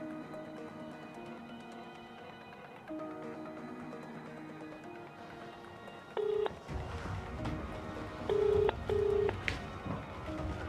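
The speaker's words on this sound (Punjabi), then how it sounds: "ਜੋਬਨ ਨੂੰ ਪਹਿਲਾਂ ਫੋਨ ਲਾ ਕੇ ਪੁੱਛਣਾ ਕਿ ਉਹ ਕੀ ਕਰਨ ਡਿਆ" Phone number being dialed on a telephone, several short keypad tones pressed one at a time over quiet room ambience.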